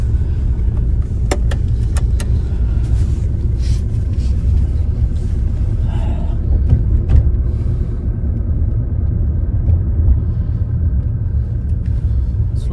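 A car rolls slowly along a road at night, giving a continuous low rumble with scattered light clicks and rattles over roughly thirteen seconds. No one speaks.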